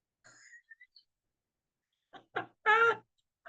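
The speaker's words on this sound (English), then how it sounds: "Teresa, is that a bird?" A bird calls during a live online show, giving a few short high chirps and whistles, then after a pause several louder, harsher squawks close by, with no talk.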